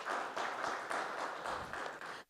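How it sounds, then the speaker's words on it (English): Audience applause welcoming a moderator at a smart grid conference, dense steady clapping from a crowd indoors that drops off abruptly at the end. "Please welcome him with a big round of applause"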